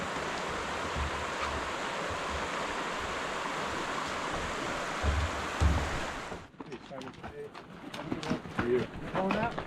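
Bright Angel Creek, a spring-fed stream in the Grand Canyon, rushing in a steady broad wash of flowing water; the flow cuts off partway through and people talk nearby.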